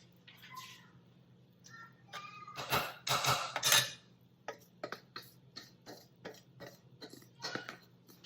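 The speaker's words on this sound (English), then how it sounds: "And we're just going to stir this up." A utensil scrapes and clinks against a pot of baked beans with ground beef and pineapple in short, uneven strokes, with a few louder clattering scrapes midway over a faint low hum.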